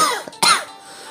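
A girl who seems unwell coughs in two bursts, a short hack followed by a louder, harsher cough, close and clear, with no talking.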